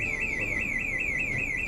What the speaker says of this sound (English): Ladies and gentlemen, that was the alarm.